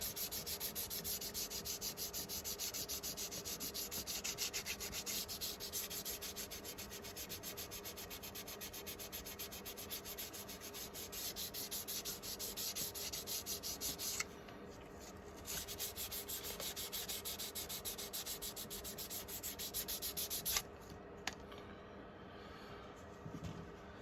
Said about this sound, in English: this is 600 grit, and I'll go over and sand the whole body